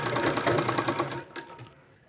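A sewing machine runs in a rapid, steady stitching burst while sewing palazzo pants, then slows and fades out over the last second, with no talking.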